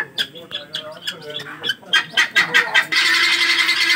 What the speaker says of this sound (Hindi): ये तितरियां हैं वो आवाज़ें निकाल रही हैं और उसके बाद पीरू है वो आवाज़ दे रहा है।